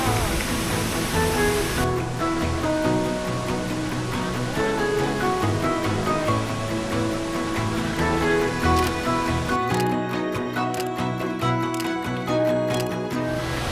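Waterfall at Pre To Lo Su in the rainy season, a steady loud roar of falling water that fills the whole scene, continuous and close, with faint crowd sounds in the background.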